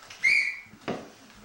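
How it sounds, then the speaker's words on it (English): A referee's halftime whistle at a muddy football match, heard as one clear, loud, shrill blast followed by a shorter second toot. "Ah, the wonderful sound of the halftime whistle."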